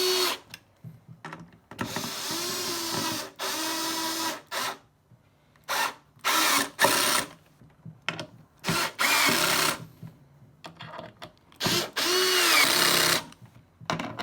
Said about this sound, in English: When you're fastening these down, we just want to make sure that they easily thread into the T-nut.